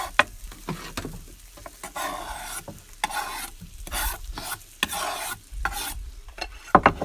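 Squash pieces sizzling in a pan for a squash laksa, with bursts of loud frying hiss broken by scraping and stirring sounds in an uneven rhythm, close by and with no talking.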